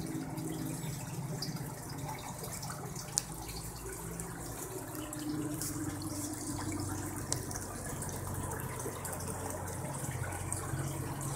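Water pours at a heavy, steady rate into the sump of an aquaponic setup, giving a continuous splashing gush with a few faint clicks and no talking.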